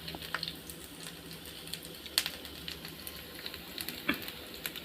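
Cumin, ginger and garlic paste frying in a pan of browned oil, a faint, soft continuous sizzle with scattered small pops and light stirring clicks, quiet and without talking.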